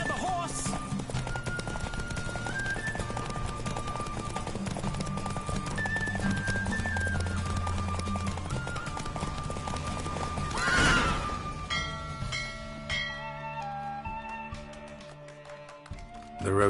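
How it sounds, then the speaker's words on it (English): Horse galloping in a race in the Witcher 3 video game, rapid clip-clop hoofbeats with whinnying and game music underneath, a loud burst midway before the hooves fade and the music thins out. "Don't spare the horse."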